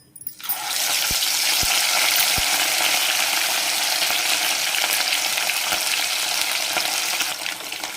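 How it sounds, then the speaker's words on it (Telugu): Fish pieces shallow-frying in hot oil for a dhaba-style fish korma give a loud, steady sizzle that starts abruptly and holds throughout, with a few faint clicks and no voices. "ఈ చేప ముక్కలు మనం ఎయిటీ టు నైంటీ పర్సెంట్ వేయించుకుంటే చాలు"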